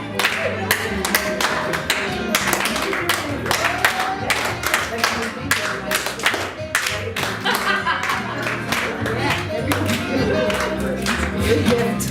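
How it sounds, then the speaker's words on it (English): Audience clapping along at a gospel-style talk, a dense steady stream of many hands with sharp repeated claps throughout, mixed with background voices and music. "I want to do a clap for you."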